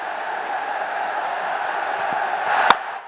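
Steady roar of a big crowd at a Bangladesh Premier League T20 cricket match between Rangpur Riders and Chittagong Kings, a broad continuous murmur that swells slightly toward the end with a sharp bat-like crack near the close.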